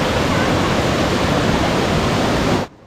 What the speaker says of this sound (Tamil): இந்த அருவி ஜவ்வாது மலையிலிருந்து தொடங்குது.